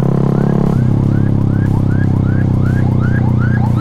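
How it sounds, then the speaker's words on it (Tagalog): An ambulance siren on the road, close and loud, sweeping in rapid repeated rising whoops over a steady engine drone. "Ambulansya siya."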